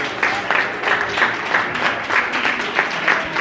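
Shoppers in an Apple Store clapping together, a lively, fairly close burst of applause with sharp individual claps standing out, carrying on steadily.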